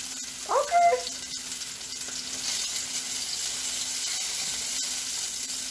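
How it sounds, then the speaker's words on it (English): Chicken marsala sizzles in a pan, a steady faint frying hiss that runs throughout after a brief clatter of food being placed in near the start. "It's gonna sizzle now,"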